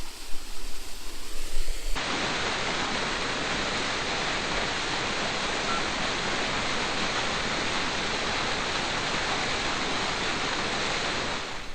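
The waterfall at the Loup of Fintry in Scotland roars as a dense, continuous rush of falling water, close and loud, after a brief rougher stretch at the start, with no talking.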